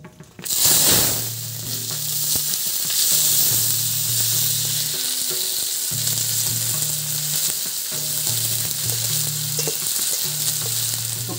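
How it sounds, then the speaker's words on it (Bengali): Chopped onions hit hot oil in a wok for chicken curry and burst into a loud, continuous sizzle that holds steady throughout, with a repeating music track running faintly beneath. "এখন আমি কড়াইয়ে দিয়ে দিব পেঁয়াজ কুচি।"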